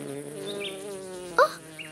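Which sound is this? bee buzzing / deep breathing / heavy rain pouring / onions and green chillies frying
bee buzzing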